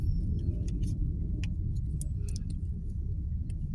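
City road traffic in San Fernando, Pampanga, Philippines: a continuous low rumble of passing cars and engines, with scattered light ticks and clicks on top and no talking.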